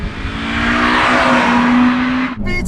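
A Honda Civic Type R FN2 with its naturally aspirated VTEC engine revs hard and close, the pitch climbing as it builds through the rev range before abruptly dropping off.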